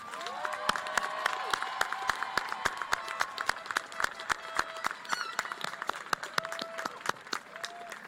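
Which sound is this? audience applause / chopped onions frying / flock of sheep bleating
audience applause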